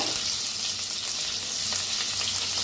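A paste of garlic, green chili, ginger and coriander frying in a pan, giving a steady, close, bright sizzle throughout with no talking.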